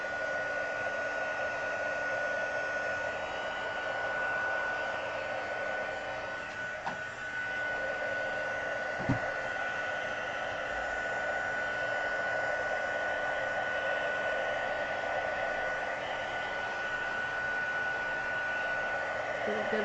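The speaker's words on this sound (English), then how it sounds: "Let me get my heat tool out here. It's going to run a little bit" A heat tool blows steadily for the full stretch, drying the background color on a handmade card, a constant loud whooshing hum like a hair dryer with a brief bump partway through.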